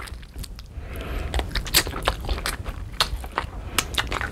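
Close, crisp crunching bites and chewing of a chicken adobo wing, irregular crackly snaps repeating over a few seconds with a soft wet chewing bed underneath.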